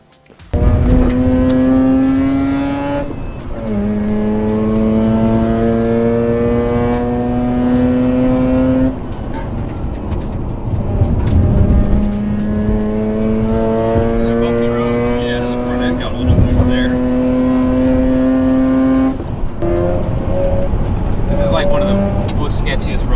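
A modified Mazda RX-8 cruises and revs on a road, its engine note rising and falling through several gear pulls, heard from inside the car with occasional talk over it.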